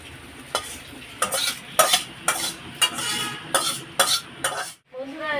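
Spices tempering with ginger paste sizzle in a hot pan, a steady crackle broken by repeated scraping stirs of a utensil against the pan, close and fairly loud, with a brief quiet gap near the end.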